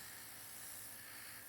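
An airbrush sprays air nail colour onto a nail in a steady, soft, continuous hiss that stays even and fairly faint throughout, with no voices.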